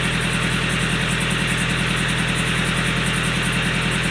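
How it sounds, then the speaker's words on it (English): A sailboat's engine idles while warming up, at an even rumble with a constant low throb and mechanical hum, no change in pace throughout. "I'm just letting the engine come up to temperature a little bit so it gets a nice lubrication"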